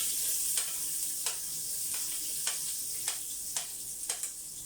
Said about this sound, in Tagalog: gigisahin na po natin